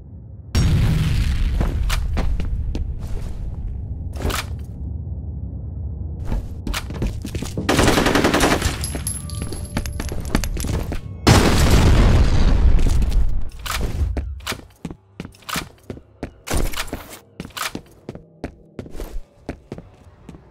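Grenade explosions and gunfire in the F.E.A.R. shooter game, heavy close booms and bursts of rapid fire, then a scatter of sharper individual shots and footsteps toward the end.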